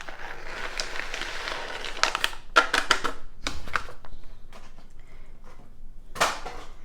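Chopped pecans tipped into toffee bar batter, a series of close dry clattering taps and crackles, scattered and uneven, with a few louder bursts between quieter rustling.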